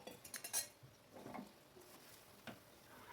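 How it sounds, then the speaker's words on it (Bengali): Cutlery scraping and clinking in a frying pan as fried chicken pieces are turned with spices, a few soft clatters and taps close by in an otherwise quiet kitchen. "ভাজা চিকেনটা মশলার সাথে ভালো করে একটু নেড়েচেড়ে নিচ্ছি।"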